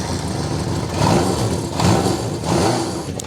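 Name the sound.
1975 Honda CB750 Supersport motorcycle engine and exhaust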